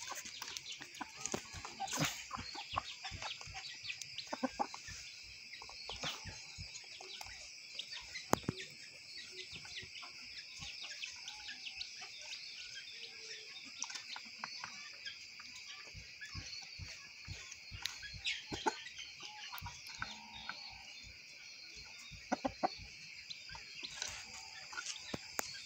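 Hens clucking softly and steadily in a poultry setting with Aseel fowl, one hen laying an egg, amid a dense background chorus of birds and scattered clicks.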